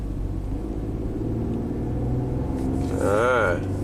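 A Ford Explorer V6 with a low-power fault after an engine swap, held at steady half throttle while climbing a hill: a continuous low droning rumble throughout, with a brief voice near the end.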